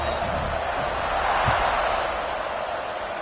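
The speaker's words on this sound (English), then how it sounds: "this crowd is buzzing after that last score" A college football stadium crowd buzzing steadily after a score, a dense, even wash of distant voices and noise with a faint thump partway through.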